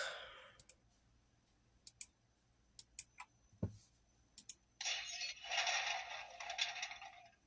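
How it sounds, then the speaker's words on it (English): Grandfather clock sound effect from an adventure game, a sparse run of sharp, irregular ticks and clicks, then a brighter sustained rattling burst toward the end, fairly quiet overall. "I believe that's the grandfather clock."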